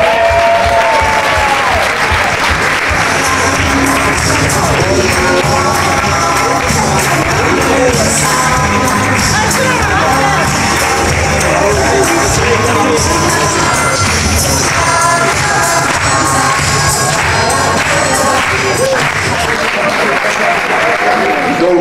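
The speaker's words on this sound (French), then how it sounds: "Je vous demande d'applaudir les Roses des Sables." An audience at the prize-giving for the 2013 Aquitaine nature race applauds the Roses des Sables team with loud, sustained clapping and some cheering, while an announcer speaks over it throughout.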